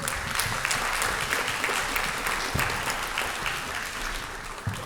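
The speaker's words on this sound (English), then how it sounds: "Let's give him a round of applause" A school audience at a beginner band day applauds a music teacher with steady, dense clapping from many hands. The applause holds at an even level throughout and is close and fairly loud.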